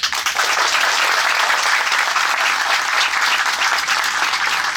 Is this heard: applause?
yes